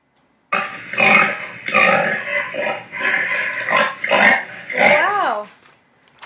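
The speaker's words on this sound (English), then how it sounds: "Wow, that's a pig." A pig oinks and grunts in a series of rough, snorting bursts, close and loud, ending in a few rising squeals.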